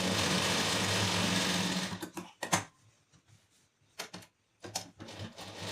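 A sewing machine runs in a fast, even whir while stitching a blouse lining piece, then breaks into short bursts and stops, with faint handling clicks of fabric between runs.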